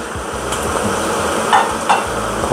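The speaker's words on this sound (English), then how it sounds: "give it a stir again" Vegetable masala stirred in a pan gives a steady, close sizzle with soft scraping and a couple of brief clinks, fairly loud and with no talking.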